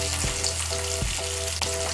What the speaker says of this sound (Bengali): আলুগুলোকে এখন আমি লাল করে ভেজে নেব।